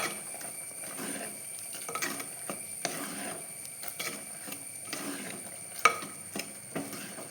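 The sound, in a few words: stirring ash gourd pachadi in a pan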